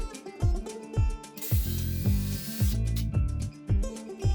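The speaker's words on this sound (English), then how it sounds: "I clamped them together and then drove in some more lag bolts to secure them permanently." Impact driver or ratchet driving lag bolts into clamped cedar 2x6 boards, rhythmic repeated clicking bursts with a longer whirring run, close and fairly loud.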